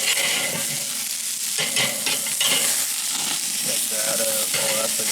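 Burgers fry in a hot pan with a steady, close sizzle and crackle, broken by occasional stirring or scraping sounds, with no voices.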